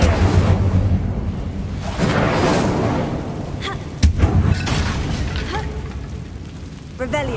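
An Incendio fire spell cast in Hogwarts Legacy, a whooshing burst of flame with a sharp booming impact near the middle, set among ongoing game noise.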